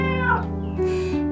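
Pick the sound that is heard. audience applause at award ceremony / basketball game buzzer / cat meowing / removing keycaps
cat meowing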